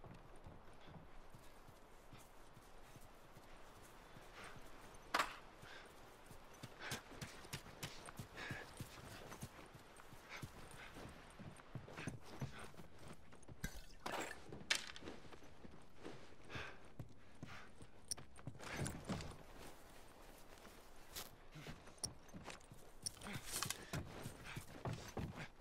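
Horse hooves clip-clopping in the video game The Last of Us, a long run of uneven footfalls and occasional snorts over quiet ambience.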